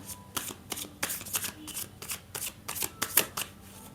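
A deck of tarot cards is shuffled by hand in a quiet room: a close run of quick, papery riffles and slaps, about a dozen crisp bursts in an uneven rhythm, with no voice over them.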